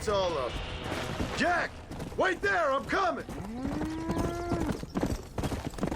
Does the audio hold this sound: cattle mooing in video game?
yes